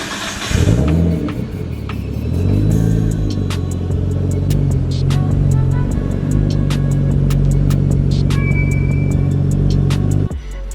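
A Nissan Skyline's engine runs steadily as the car reverses, a loud, continuous low rumble that holds for about ten seconds before cutting off at the end.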